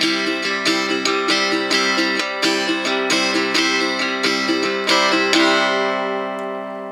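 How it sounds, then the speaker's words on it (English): A tenor guitar strummed with the split stroke in a quick, bouncy rhythm of crisp strokes, played alone and close, ending on a ringing chord that fades out. "This is called the split stroke, and it sounds like this."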